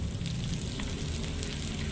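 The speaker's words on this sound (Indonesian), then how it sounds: "Kemudian saya goreng dulu tempe ini." Tempe fries in a generous amount of hot oil, giving a dense, continuous sizzle with steady crackling and spitting and no voices over it.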